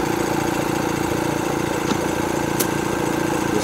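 An air compressor runs steadily close by during sprinkler-line winterizing, a constant droning engine hum with no pauses and a couple of faint clicks.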